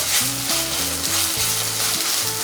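Loud constant sizzling of masala with curry leaves frying in a pan while being stirred, with a steady hiss and some low tonal hum underneath.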